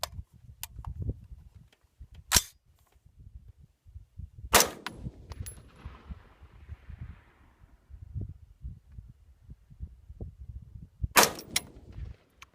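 An AR-15 rifle fires while being zeroed in the desert, three loud sharp reports spaced seconds apart, the middle one trailing a brief echo, over low wind rumble.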